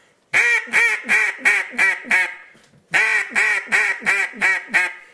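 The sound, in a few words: duck call imitating duck quack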